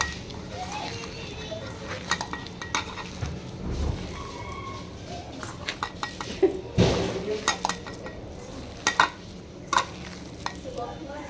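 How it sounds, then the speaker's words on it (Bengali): Dal being stirred and mixed in a large pot, with a spoon scraping and knocking against the metal in irregular strokes over a low simmering sizzle, plus a few clinks of utensils. "ডালগুলা এখন মিশিয়ে নিয়েছি।"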